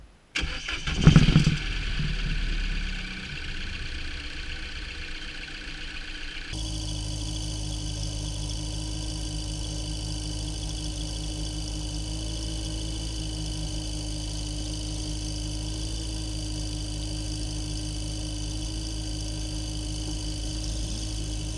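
A car engine cranks and starts with a brief rough burst, then settles into a steady, even idle that continues alone, with the cooling system open for a coolant refill.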